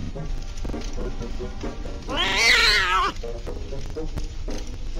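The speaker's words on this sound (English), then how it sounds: "sick the wild cat on them" A wild cat in the Scary Teacher 3D video game lets out one loud, drawn-out yowl in the middle, set amid game sounds and brief bits of voice.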